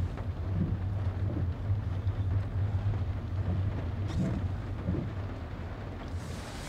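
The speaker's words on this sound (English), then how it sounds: "I don't want to open, it's really rainy." Steady rain on Pico Island in the Azores drums and hisses continuously, with wind buffeting and a low rumble underneath, muffled as if heard from inside a vehicle.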